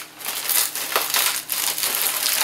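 Tape-sealed packaging is pulled open and crumpled up close, a continuous crinkling and crushing sound with a few sharper rips.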